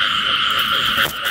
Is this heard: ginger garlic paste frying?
no